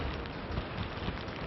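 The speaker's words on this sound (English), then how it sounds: "Heavy rain that is coming on shore, and it is not over by any means." Heavy rain from Hurricane Sandy pounding the Outer Banks of North Carolina during tropical storm force winds, a dense, steady roar of downpour that stays loud and continuous throughout with no voices.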